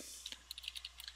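Keys on a computer keyboard are typed in a quick, irregular run of light clicks, close but faint in a quiet room.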